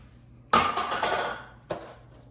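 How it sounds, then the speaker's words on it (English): A dental retainer dropped into a cup of Efferdent cleaning solution, a sharp clattering splash followed by a fading rattle and a second, softer knock a moment later, close and alone. "So I'm gonna place my nasty retainer that I wanna clean in here"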